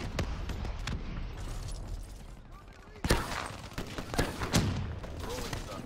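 A grenade blast in the Call of Duty Black Ops 3 multiplayer match on the Safeguard map: a loud sharp burst around the midpoint, followed by several more bangs and gunfire against a steady din of battle.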